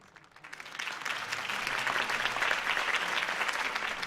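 Crowd applause in the video game Batman: The Telltale Series swells from quiet to a full, steady clapping that fills the remaining seconds.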